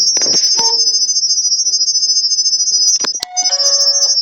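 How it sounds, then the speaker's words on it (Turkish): A steady high electronic tone runs throughout, broken near the end by a short two-note ding-dong chime from a YooSee wireless IP camera phone app after scanning a QR code, with faint clicks and handling noises earlier. "Evet ding dong sesini duyduk."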